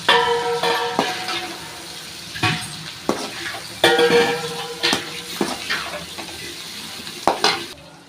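Tomato sauce and chili ketchup being stirred into a noodle stir-fry, with a spatula scraping and clanking against the pan in repeated strokes over a steady sizzle, close and fairly loud.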